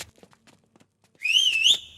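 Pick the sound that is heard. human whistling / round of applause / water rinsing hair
human whistling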